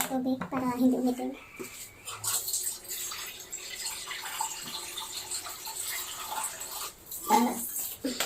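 Water running from a tap and poured onto sliced sweet potato in a kitchen while making bilo bilo, a steady hissing flow with a voice talking over it at the start and end.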